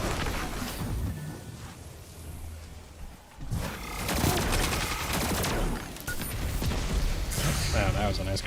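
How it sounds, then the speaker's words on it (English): A grenade blast amid a Destiny 2 firefight, loud booming bursts and rapid weapon fire layered with crashing debris, dense and close throughout. "Wow, that was a nice grenade."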